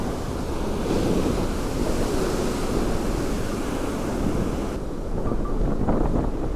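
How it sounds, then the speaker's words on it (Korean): Ocean waves crash and roll onto the shore at Sokcho in a loud, continuous roar, with heavy wind buffeting the microphone throughout and no voices. "어우 파도 소리."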